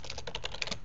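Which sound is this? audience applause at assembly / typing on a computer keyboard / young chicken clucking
typing on a computer keyboard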